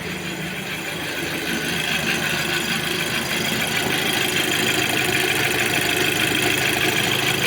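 An Audi A6 2.0 FSI engine idles after a cold start, a steady, even mechanical rattle with a faint ticking knock running continuously at close range, with no voices.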